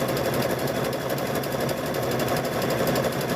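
A sewing machine stitching through thick rope to make a wall hanging, running continuously with a fast, even mechanical rattle and hum, loud and close, with no voices.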